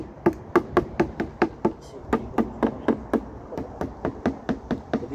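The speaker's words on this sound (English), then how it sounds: "give it a smack in the face with an hammer" A hammer taps repeatedly against a rubber statuary mould filled with sand and cement concrete, giving about twenty close, sharp knocks in a fairly steady rhythm, with brief pauses between short runs.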